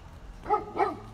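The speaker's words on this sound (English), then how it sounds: "Oh, dog barking." A dog in a residential neighborhood gives two short barks about a quarter second apart, moderately close and loud, against a faint background hum with no talking.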